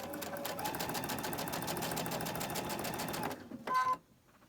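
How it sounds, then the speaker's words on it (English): A sewing machine chain-stitches quilt block pieces, running steadily with a fast, even rhythm for about three seconds before stopping, followed by a short burst of a higher whirring tone and then near quiet. "we're just chain stitching"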